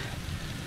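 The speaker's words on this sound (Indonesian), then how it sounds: "Ini hujan udah mulai deras." Heavy rain comes down steadily on a mountain hiking trail, making a dense, constant hiss like sizzling. It stays close and unbroken throughout the short stretch.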